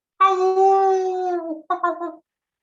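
A concert audience imitates a wolf howling at the moon, one long sustained, slightly falling howl followed by a shorter second howl, loud and close.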